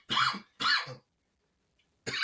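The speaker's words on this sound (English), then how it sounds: "Coughing already started." Two harsh, close coughs in quick succession, each about half a second, then a pause and the start of a third cough, loud and alone without talk.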